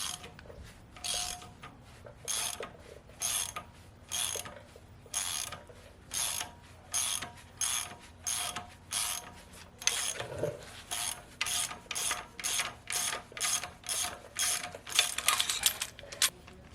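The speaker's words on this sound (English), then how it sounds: "Take a 19mm socket, short socket or deep well, whichever one you want, and ratchet it off." Steady ratcheting clicks from a ratchet driving a 19mm socket loosen a bolt on an LS 5.3 engine during teardown, coming in repeated short bursts of rapid ticks with brief pauses between strokes, close and clear with no talk.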